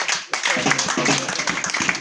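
A church congregation claps for Jesus during a healing service, a dense, steady patter of many hands under a preacher's loud, continuous voice.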